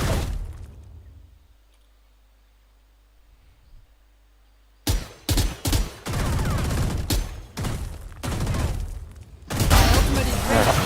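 Gunfire in Valorant, with a near-silent stretch giving way to a series of sharp, loud shots in quick bursts and volleys, followed by a denser stretch of sustained firing and impact noise.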